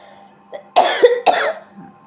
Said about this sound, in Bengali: তো কাশি তো হতেই আছে